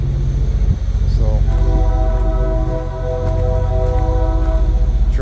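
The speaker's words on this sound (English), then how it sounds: "train's catching up for old times." A train rumbles past close by with a steady heavy roar and a sustained horn blast, loud and continuous throughout.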